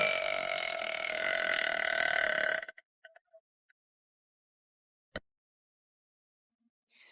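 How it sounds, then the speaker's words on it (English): A girl lets out one long, loud, close burp that rumbles for over two seconds, then trails off into faint clicks and near silence with one sharp tap. "Burp."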